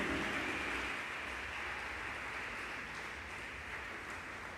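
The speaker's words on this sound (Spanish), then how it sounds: "Démosle un aplauso al Rey" Church congregation applauding for the King during an apostle's sermon, a dense, steady wash of clapping that starts strongest and tapers only slightly, with no voices over it.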